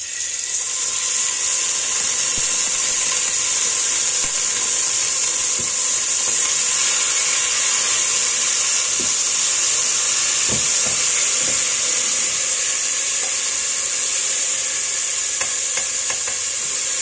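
Very hot oil sizzles steadily in a pot while meatballs for stuffed peppers are being fried, a continuous close hiss running throughout with a few faint clicks and knocks of cookware.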